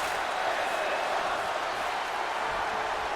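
A wrestling arena crowd in the video game WWE 2K20 roars in a steady, even wash of cheering that holds at one level throughout, with no individual voices standing out.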